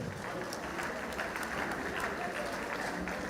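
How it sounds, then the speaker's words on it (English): A congregation applauding at a church celebration of a priest's 50th birthday, a soft, continuous wash of clapping with a low rumble and faint voices underneath. "Can you give the Lord another round of applause again?"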